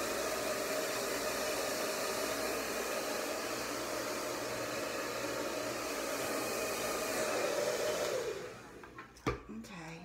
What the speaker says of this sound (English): And then I kind of blow dry underneath it